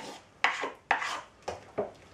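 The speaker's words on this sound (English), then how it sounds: "I'll put the lid on and check the temperature" Four or five close metallic scrapes and clanks sound as a lid is handled on a home-brewing pot during a fresh hops brew, each a sharp knock followed by a brief rubbing rasp, with no talking.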